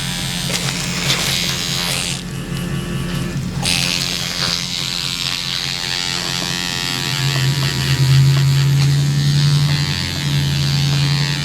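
A tattoo machine fitted with a 5 magnum needle buzzes continuously up close, a steady electric whine that shifts in pitch now and then, with no talking.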